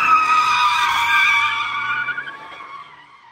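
BMW Alpina diesel touring car with a two-litre single-turbo engine, 260 hp, doing a burnout: loud, sustained tyre squeal and skidding with engine drone beneath, alone, slowly fading over about three seconds.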